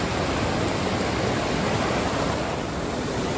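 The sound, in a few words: creek water flowing at hiking trail crossing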